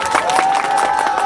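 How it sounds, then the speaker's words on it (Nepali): A crowd at a political gathering claps in steady, dense bursts, close and fairly loud, with a sustained tone running underneath. "एकचोटि ताली बजाइ"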